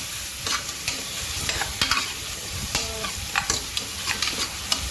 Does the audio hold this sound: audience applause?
no